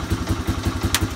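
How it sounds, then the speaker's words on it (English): A Honda Big Red 250 three-wheeler, a barn find, idles loud and close with a steady, slightly uneven thumping pulse from its single-cylinder engine, a brief click or rattle showing partway through. "Looks like I need to adjust the idle a little bit."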